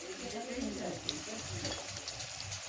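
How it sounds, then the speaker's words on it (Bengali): Slices of raw plantain frying in hot oil in a home kitchen during festival cooking, a steady soft sizzle with faint stirring beneath a busy room, moderately close. "এইদিকে কলা ভাজা হচ্ছে, এটা কাঁচকলা ভাজা হয়, কাঁচকলা ভাজা হচ্ছে।"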